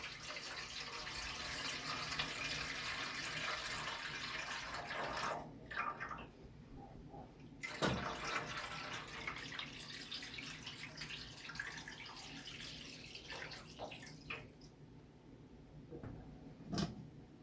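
Water runs steadily from a tap for a long stretch, filling a pot for cooking, a broad hiss that briefly cuts out and resumes, with a few soft knocks nearby.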